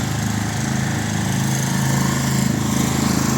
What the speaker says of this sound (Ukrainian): тут генератор працює